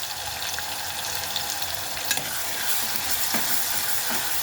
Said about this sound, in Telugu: ఇది పచ్చివాసన పోయే వరకు బాగా వేగాలండి